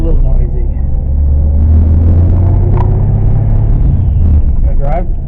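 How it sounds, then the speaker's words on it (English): Idling engine of a 1936 Nash coupe with a slightly noisy pilot bearing, a steady loud low rumble throughout, with people talking over it. "And I think the pilot bearing might be just a little noisy."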